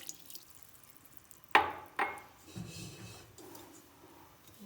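Warm water is poured into a bowl for brioche dough, two sharp splashes followed by softer trickles and drips, close by and fairly quiet with no one speaking.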